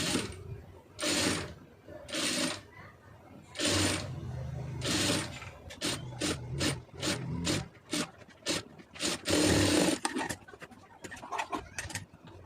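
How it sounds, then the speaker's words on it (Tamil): A sewing machine runs in short bursts, stitching a folded fabric edge for a puff sleeve, with the whirring stopping and starting several times and then a run of rapid, rhythmic stitch pulses at close range. "என்ன மடிச்சிருக்கீங்களோ அதை அப்படியே மடித்து தையல் போட்டுருங்க"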